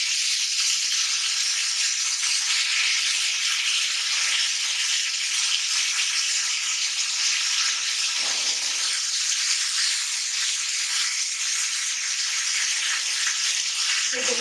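Chicken shawarma pieces threaded on sticks fry in hot oil, giving a steady, dense sizzle that crackles without pause from start to finish.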